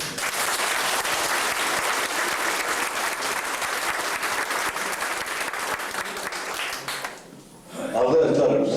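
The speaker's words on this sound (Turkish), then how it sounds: "bir alkış daha istiyorum" A crowd gives a long, loud round of applause, dense clapping that stays strong for about seven seconds, then drops away into a short pause before noise swells again with voices.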